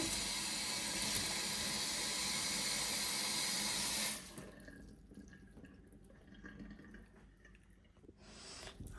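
Soaked fish washed under a running kitchen tap, a loud steady gush of water for about four seconds, then quieter splashing, dripping and handling sounds close by, no talking.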